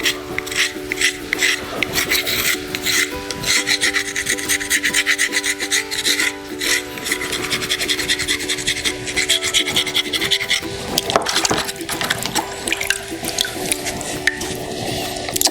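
A steady, close scraping rasp of a file or rasp rounding off the edges of soapstone, rhythmic strokes continuing throughout with little pause and no talking.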